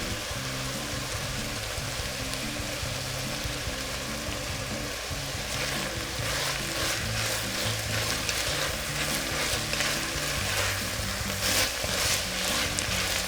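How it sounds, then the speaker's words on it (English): Chopped garlic sizzles in a pan with carrots, onions and celery for Italian wedding soup, a constant dense frying hiss that runs unbroken throughout and grows slightly busier with stirring later on. "So I'm going to add my garlic, my chopped garlic, because you don't want to add it too early."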